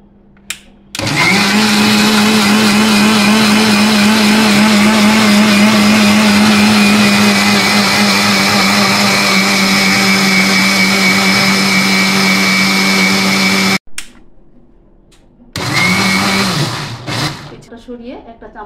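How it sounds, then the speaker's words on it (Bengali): A blender whirs loudly and steadily for about thirteen seconds while blending boiled eggs into mayonnaise, stops abruptly, then runs again in a shorter burst before winding down. "তারপর ব্লেন্ডারের জারে মুখটা লাগিয়ে ব্লেন্ড করে নিতে হবে।"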